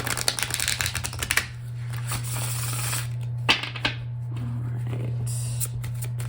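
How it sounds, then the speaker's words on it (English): A deck of tarot or oracle cards is shuffled by hand, with a quick run of riffling and flicking at the start and scattered card snaps later, all over a steady low electrical hum. "I'll do one more shuffle and then I will just go ahead and cut the deck."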